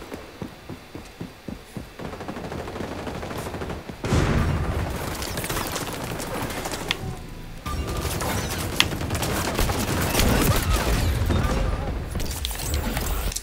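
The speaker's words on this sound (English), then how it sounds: "aiming at their legs and shooting" Gunfire rattles through a match of the shooter game XDefiant, bursts of shots and impacts layered over dense game noise, with a player talking over it.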